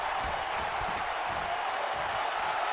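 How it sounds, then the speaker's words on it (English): Arena crowd in the WWE 2K wrestling video game roars steadily after a near-fall, a dense continuous wash of cheering held at a moderate level throughout. "This crowd is on their feet within seconds."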